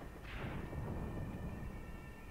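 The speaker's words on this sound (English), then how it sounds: "My artillery or mortars are falling over there." Artillery or mortar shells landing in Graviteam Tactics, a Kharkov 1942 wartime battle, heard as a distant, muffled rumbling impact that rolls on as a steady low roar.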